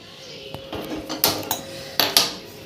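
A metal kadhai is set down on the stove before tempering sambar, giving a series of sharp, close metallic clanks and knocks, about four to five hits in quick succession over a quiet kitchen background.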